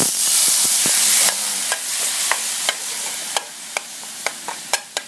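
Curry paste being stirred into water in a hot pan for Thai chicken kua kling, opening with a loud hiss, then a run of sharp spoon scrapes and taps against the pan at a steady, close rhythm.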